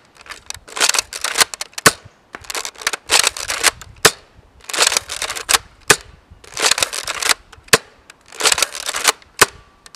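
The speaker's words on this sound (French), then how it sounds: "on part sur le test de tir du Nerf Elite Retaliator" A Nerf Elite Retaliator blaster fires foam darts in a rapid series of sharp, close pops and clicks, about a dozen over ten seconds, with short pauses between bursts.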